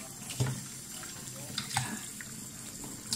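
Cold water runs from a kitchen tap into a cup for customised tea, a low steady splashing stream at moderate level with a few brief clinks over it.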